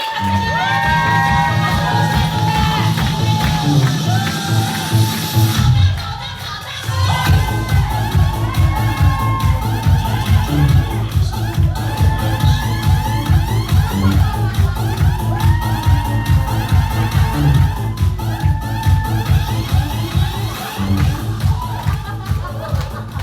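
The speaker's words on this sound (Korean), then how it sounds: "큰 박수 하도록 모셔볼까요?" A crowd at a lecture hall in Daegu cheers, shouts and whoops loudly as a speaker is welcomed onstage, with a dense roar that briefly dips before rising again and continuing strongly.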